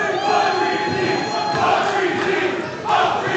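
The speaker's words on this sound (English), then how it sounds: "this crowd here at the HBA is electric" A dense, roaring crowd cheers and chants without a break at a live tag-team wrestling event in a packed venue, loud and close, dipping briefly before swelling back up.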